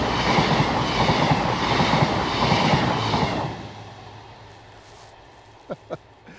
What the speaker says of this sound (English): So that train's on its way to Ashurst station, I think is the next stop, and it's just probably come from Beaulieu Road.